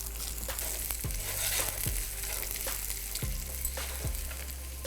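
Garlic sautéing lightly in a pan over medium heat gives a steady, close sizzle, with a few soft scrapes of stirring spaced through the clip; no one speaks.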